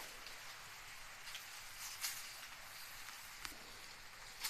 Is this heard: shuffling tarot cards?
no